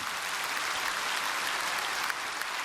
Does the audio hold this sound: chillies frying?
no